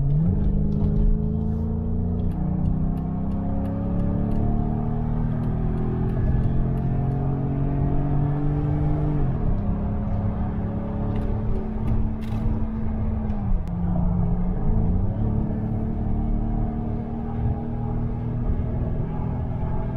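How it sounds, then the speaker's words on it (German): A Mercedes CL 500 accelerating hard, its loud engine note climbing steadily, dropping briefly at two gear shifts, then pulling upward again for the full stretch with no talking. "dann zeige ich euch mal, wie er beschleunigt"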